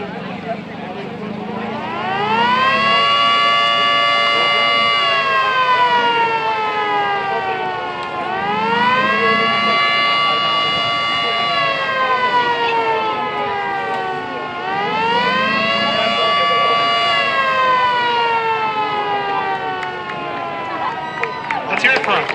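A siren built from an old modified bench grinder winds up to a loud, rising wail, holds it, then dips and rises again in three long cycles, with faint voices in the background.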